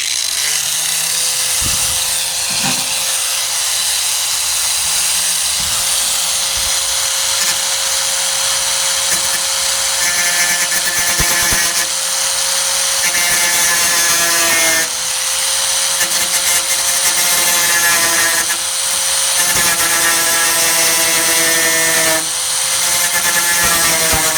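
Grinding on a 1998 Ford Ranger tailgate during rust repair, a loud continuous high whine with rasping metal contact and short interruptions, close up, with a voice faintly underneath.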